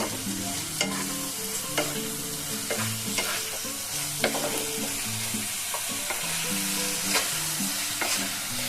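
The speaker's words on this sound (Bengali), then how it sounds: "গ্যাসটাকে একটু বাড়িয়ে দিলাম দিয়ে এটাকে এখন একটুখানি ভেজে নেব" Tomato, capsicum and onion frying together in a pan for chili soybean, a continuous close sizzle broken by repeated scraping and stirring strokes. No talking.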